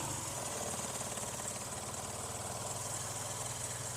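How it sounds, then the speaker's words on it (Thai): A 2008 Toyota Yaris 1.5 S Limited with automatic transmission starts and idles steadily with a low, even rumble and faint rattling vibration, continuous throughout with no voices. "เดี๋ยวจะสตาร์ทเครื่องยนต์นะครับ ฟังเสียงเครื่องยนต์นะครับ"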